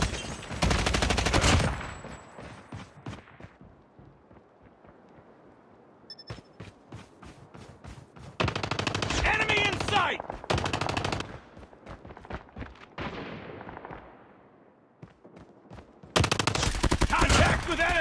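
Heavy bursts of automatic gunfire from a Call of Duty style first-person shooter game, several loud sustained volleys with quieter stretches of scattered shots and game effects between them.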